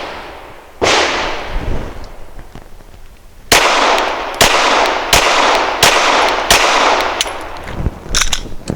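Gen 4 Glock 34 pistol fired outdoors: one sharp shot, a pause, then five evenly spaced loud cracks with a further shot at the end, each with a brief ringing echo.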